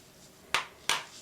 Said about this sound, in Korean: 달걀은 톡톡해서 다른 접시에 이렇게 놔주시고요.